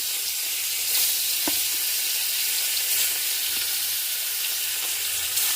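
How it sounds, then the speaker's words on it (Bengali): Salted, turmeric-coated fish frying in oil in a wok for a fish curry, a loud, continuous close-up sizzle and hiss with a few faint clicks and no voices. "এবার মাছগুলি কড়াইয়ের মধ্যে দিলাম"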